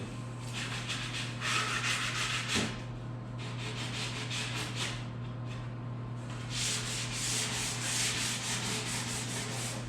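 Wooden cabinets get hand sanded during a laundry room remodel, with rhythmic back-and-forth rubbing strokes coming in close, hissy bursts separated by brief pauses over a low hum.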